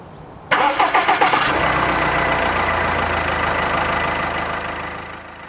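A Subaru Forester's 2-litre turbodiesel boxer engine cranks over with several rapid starter pulses, catches, and settles into a steady, loud idle nearby with a low offbeat thrum.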